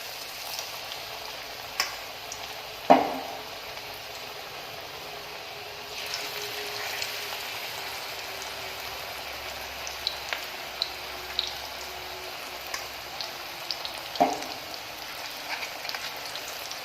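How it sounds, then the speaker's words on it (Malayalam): Onion vada batter sizzling steadily in hot coconut oil in a deep pan, a continuous close crackle and hiss with a few louder pops and spits over about seventeen seconds. "എണ്ണ നന്നായിട്ട് ചൂടായിട്ട് വരുമ്പോൾ ഇതിൽ നിന്നും ഓരോ സ്പൂൺ വീതം എടുത്തിട്ട് നമുക്ക് ഇട്ട് കൊടുക്കാം"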